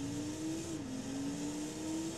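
Car engine droning while driving in the Transformers Revenge of the Fallen Xbox 360 video game, a steady sustained whine with a slight pitch dip and recovery, constant and fairly loud.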